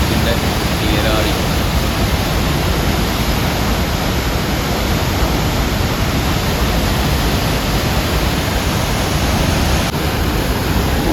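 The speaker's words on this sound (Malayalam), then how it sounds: "എത്രയാണ് വെള്ളമൊക്കെ ചാടുന്നത്." Aharbal waterfall in Kashmir roars as a steady, loud, dense rush of falling water, unbroken and close throughout.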